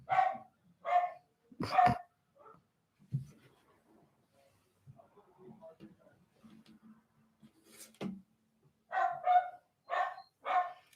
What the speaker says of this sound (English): My dogs are going crazy because my son just pulled up.